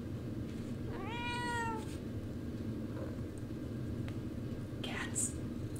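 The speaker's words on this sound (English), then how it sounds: "Cats." A cat gives one clear, rising-then-falling meow early on, followed by softer small vocal sounds against a low background rumble.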